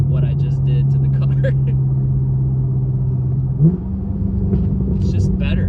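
Deep, steady exhaust rumble from a BMW F10 M5 with Turner muffler deletes, droning loud and close throughout with a brief surge near the end, while someone talks over it.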